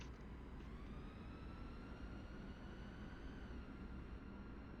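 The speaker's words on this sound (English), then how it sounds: "This sounds like an electric truck." Electric truck driving in the European Truck Simulator video game, a steady loud low rumble with a rising whine that holds steady throughout, no voices.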